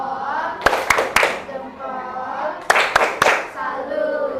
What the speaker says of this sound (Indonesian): Kita kasih tepuk salut biar semua dapat tepuk salut nih.